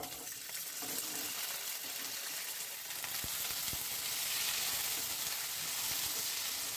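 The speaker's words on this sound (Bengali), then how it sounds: "এই কুমড়ো আর ভেন্ডিটাকে আমি আগে কড়াতে দিয়ে দিচ্ছি।" Pumpkin and okra fry in a kadai, giving a steady, close, loud sizzle that holds at an even level throughout, with a couple of sharp clicks partway through.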